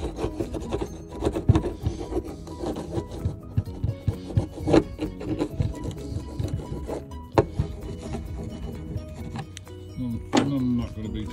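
Rough scraping and rasping around the door latch area of an Aliner camper, irregular close strokes with scattered knocks and clicks, and a voice speaking briefly in between.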